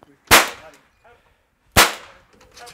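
Two sharp 209 primer shots crack out about a second and a half apart during training of a young Giant Schnauzer, each a loud close snap with a short decaying tail, and faint movement noises between.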